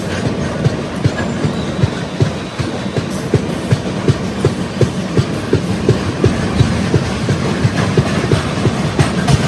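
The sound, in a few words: express train starting to move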